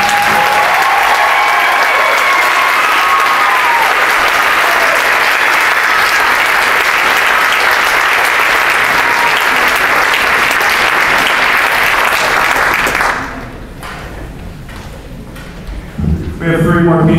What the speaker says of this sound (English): how about another round of applause for Sharon?